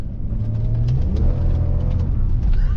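A BMW E46 converted from automatic to manual transmission drives along, its engine a loud, steady rumble that rises and shifts in pitch as it accelerates, heard from close inside the car with no voices.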